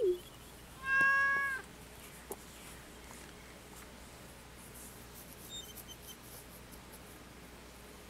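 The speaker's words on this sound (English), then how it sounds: "Well, little Laurel, you be a good kitty now, okay?" A cartoonish cat meows once, then the purr-like meow chirps briefly in a quiet Stardew Valley farm scene, followed by faint soft game ambience.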